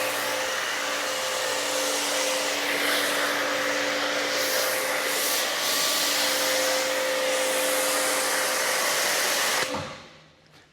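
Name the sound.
pressure washer with foam cannon washing Tesla Model 3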